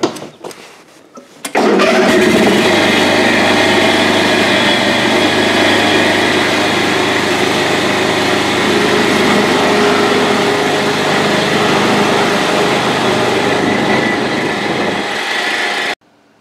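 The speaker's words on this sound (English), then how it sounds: "I got the thing running and driving and the deck even works" An Ariens lawn tractor engine cranks briefly and catches, then runs loud and steady for about fourteen seconds before cutting off. No voices are heard.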